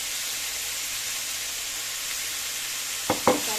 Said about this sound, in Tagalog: Ituloy lang natin yung pagpapansay natin sa ating carrots and potatoes